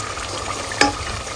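Spice paste for hilsa fish fries in a pan with a continuous soft sizzle, broken by one sharp scraping stir or clink near the middle, close up and with no voices.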